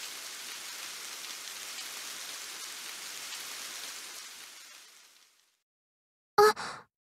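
Rain falls steadily as a soft, even hiss, then fades away to silence. A short, sharp sound follows near the end.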